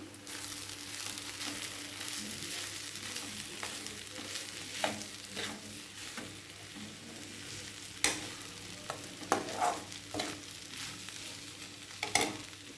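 Crab curry with chili powder stirred in a pan, soft continuous sizzling with intermittent scraping and clacking of the spoon against the pan, fairly quiet and with no talking.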